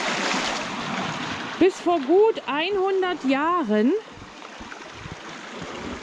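Water from a reservoir outlet rushes steadily into the Rehberger Graben mining ditch in the Harz, near St. Andreasberg, a continuous broad hiss heard under someone speaking German in the middle.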